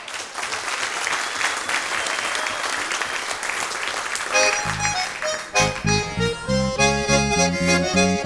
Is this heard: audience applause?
yes